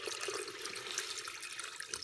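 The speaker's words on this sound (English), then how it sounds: "I'm going to put another cup of water." Water is poured steadily into a Lortone rock tumbler already loaded with steel shot, giving a faint, continuous splashing trickle with no speech.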